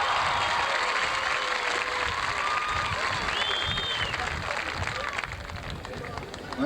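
Sustained applause from a large crowd at a 1987 high school graduation in Gilroy, California, a dense wash of clapping with a murmur of voices mixed in, holding steady throughout.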